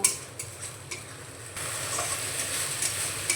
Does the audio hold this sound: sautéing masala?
yes